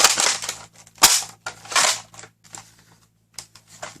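A Dart Zone MAX Stryker toy blaster gives a series of sharp plastic clacks and snaps as its mechanism is worked, in uneven bursts with short pauses between them.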